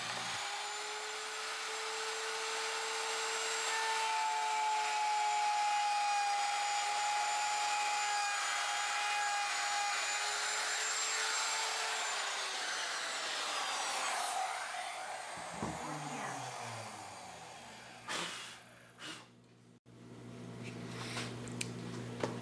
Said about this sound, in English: Did you notice on that cut the router was pulling a little bit?